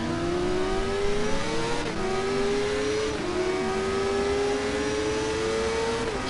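A Kawasaki motorcycle engine in the TT Isle of Man racing game screams at high revs, a sustained whining drone that dips briefly at gear shifts before climbing again, loud and constant with no talk.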